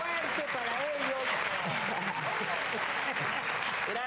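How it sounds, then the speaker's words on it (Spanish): Sustained, dense applause from a television talk-show studio audience at a 1999 tribute to Celia Cruz in Peru, steady and loud throughout with talking mixed in. "¡Un aplauso muy fuerte para ellos!"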